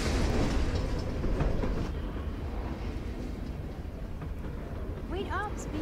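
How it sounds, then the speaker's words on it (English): In the video game Life Is Strange, a train rumbles at a junkyard, a steady low roar that eases slightly partway through, with a few brief chirps near the end. "Is that a train?"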